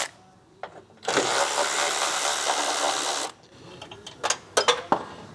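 Bolts on a power steering bracket of a 2013 Honda Pilot engine are backed out with a power ratchet, giving a steady two-second whir. Softer clicks of tools and a few sharp metal clinks of dropped bolts follow.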